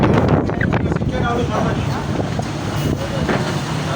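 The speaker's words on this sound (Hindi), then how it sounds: "अभी तेज़ हवा हो रही है कराची DHA में।" Strong wind buffets the microphone in a loud, continuous rush in Karachi's DHA, with a voice faintly audible beneath the roar.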